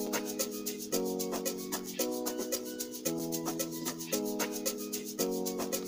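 Sustained synth chords in FL Studio Mobile step through a repeating progression about once a second, backed by a tight, bright ticking percussion loop; no one talks.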